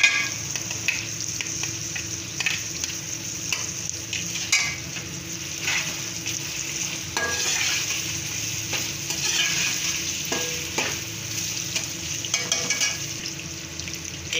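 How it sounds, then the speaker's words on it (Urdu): A spoonful of garlic sizzles in hot oil with beef in a pan for beef pulao, stirred steadily with a spoon, producing a continuous frying hiss with scraping strokes throughout. "اب ہم اس میں 1 چمچ لہسن کی شامل کریں گے۔"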